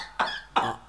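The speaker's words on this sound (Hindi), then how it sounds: "उधर मुंह करके खांसे आप, उधर मुंह करके खांसे।" A man in a comedy skit set in a clinic coughs twice in quick succession, close and fairly loud, with no talking.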